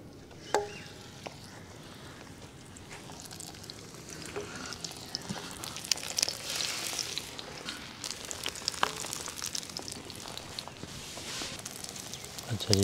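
Maize flour roti cooks on a hot tawa griddle in a village kitchen, giving a soft, faint sizzle with scattered light taps and scrapes, and voices can be heard.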